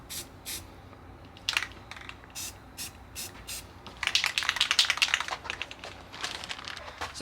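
A spray can puts short and then longer bursts of primer onto the front end of a Miata under rebuild, with close hissy sprays that grow denser and more continuous toward the end.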